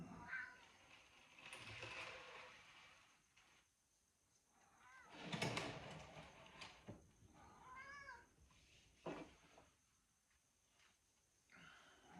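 A cat meows several times, soft and nearby, with short rising calls spread across quiet gaps and some faint handling noise between them.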